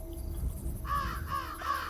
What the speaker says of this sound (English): The crows all over the place.